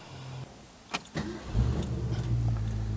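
A 1965 Ford Mustang convertible with its engine idling quietly at close range, a low steady rumble preceded by brief jangling and clicking.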